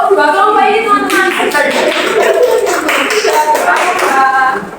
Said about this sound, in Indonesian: Beri aplaus untuk dua kelompok ini teman-teman.